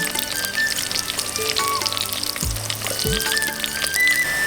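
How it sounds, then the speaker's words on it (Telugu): Chopped onions and green chillies frying in hot oil, a loud, steady crackling sizzle that carries on throughout, with a few faint clinks of utensils in the background. "నూనె గరం అయినాక ఉల్లిగడ్డలు వేసుకోవాలి అట్లనే పచ్చిమిర్చి ముక్కలు కూడా వేసుకోవాలి"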